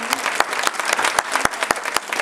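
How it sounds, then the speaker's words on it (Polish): Loud, close applause from a concert audience for a youth brass band's carnival concert, a dense flurry of claps with sharp individual hits standing out. "Także ogromne brawa"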